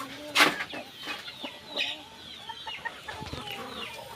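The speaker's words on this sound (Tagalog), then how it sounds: "At yan yung broodcock natin." A broodcock chicken clucks nearby, with one loud squawk near the start followed by softer scattered clucks and faint farmyard background.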